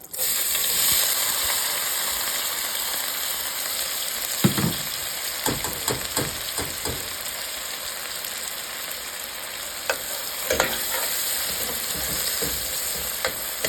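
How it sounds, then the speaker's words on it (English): Onions and celery sizzle steadily in a pan for a smoked rib and pickle soup, a continuous close frying hiss broken by several sharp clicks and scrapes of stirring. "I'm going to cook these down for about 5 minutes until they're nice and caramelized."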